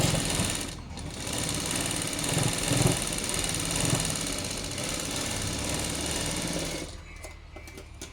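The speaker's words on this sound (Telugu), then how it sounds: "నీట్గా కుట్టు మంచిగా కనపడేటట్టు దానిపైన ఇట్లా ఒక కుట్టు వేయాలి" A sewing machine runs steadily, stitching a long frock, a dense continuous mechanical whir that holds for most of the stretch before easing off near the end.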